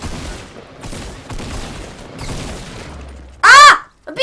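Gunfire in the battle game Fortnite: a loud, sharp burst near the end breaks through a busy background of softer game noise and scattered impacts.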